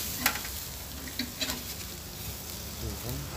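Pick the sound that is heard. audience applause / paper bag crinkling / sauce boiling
sauce boiling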